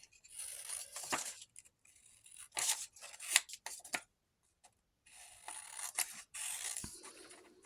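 Scissors cut out paper pockets for grungy wallpaper crafting, with close, quiet snipping and rustling that comes in short bursts separated by pauses.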